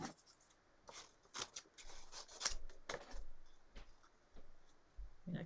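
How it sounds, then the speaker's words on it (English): Scissors fussy cut paper by hand in a run of quiet, close snips and crisp paper rustles at an irregular rhythm, with soft handling noises in between. "I'm just going to fussy cut it"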